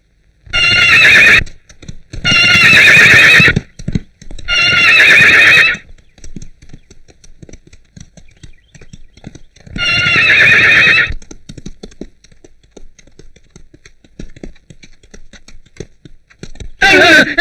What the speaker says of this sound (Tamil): அது முரட்டு குதிரை யாருக்கு அடங்க மாட்டேங்குது